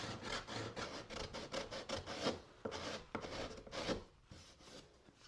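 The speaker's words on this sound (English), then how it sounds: "I made a curved sanding block to sand the cuts smooth." A curved sanding block is worked over freshly cut wood in a woodworking shop, giving close, steady, rhythmic back-and-forth rasping strokes with brief pauses and no talking.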